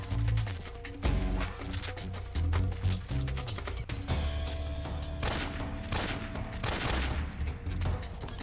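Gunfire in Metal Gear Solid 3, loud rapid bursts of shots and sharp cracks in quick clusters, with brief pauses and a little game music or tone underneath.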